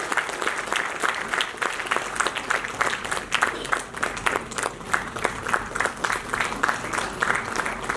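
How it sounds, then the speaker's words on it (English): Large audience applause at an Oxford-style arbitration debate event, loud dense clapping sustained evenly for several seconds with a faint voice mixed in. "Can we have a huge round of applause, please?"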